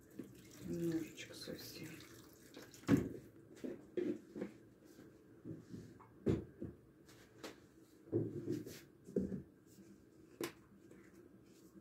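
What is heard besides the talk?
hot water poured into meat with gravy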